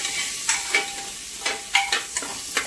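Peanuts frying in a pan for Maharashtrian masale bhat give a steady close sizzle, broken by repeated stirring scrapes every half second or so, with no talk.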